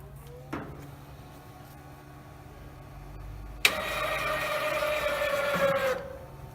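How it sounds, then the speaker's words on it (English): After a click, an electric main actuator on a compactor starts up and lifts the head cover with a steady mechanical whirring hum, close and fairly loud until it stops. "supply power back to the machine, the head cover should come up toward the normal starting height."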